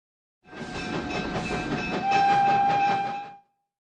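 A train rumbles past with rhythmic clickety-clack from its wagons and a sustained whistle tone rising in the middle, fading in and cutting out after about three seconds.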